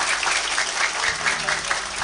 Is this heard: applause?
yes